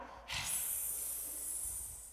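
A long, breathy hiss starts abruptly and holds for nearly two seconds, a human voice imitating a cat's hiss during a children's yoga class.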